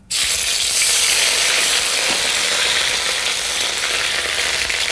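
Ginger dropped into warm ghee sizzles loudly and continuously right from the start, a dense close hiss that holds steady to the end.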